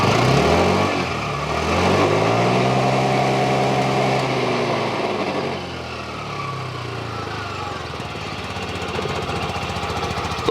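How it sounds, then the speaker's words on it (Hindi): A TVS Jupiter 125 scooter's engine runs loud and close, climbing through revs with a rising and falling harmonic whine, then settling into a steady, even idle for the remaining seconds. "तो चलिए इंजन की आवाज़ सुन लेते हैं।"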